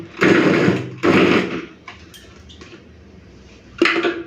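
Mixer grinder briefly grinding ivy gourd and shrimp without water, three short loud whirring bursts separated by quieter gaps with small clicks and knocks.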